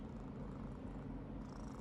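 A pet cat purrs softly up close, a faint, continuous low rumbling purr with no other sounds.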